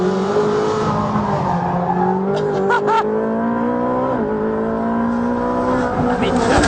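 A 600-horsepower Ferrari 458 Speciale on the Anglesey circuit, its engine loud and close with steady harmonic pitch rising and dropping through gear changes, brief tire squeal mid-clip; a voice speaks over it.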